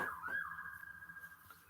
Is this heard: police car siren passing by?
yes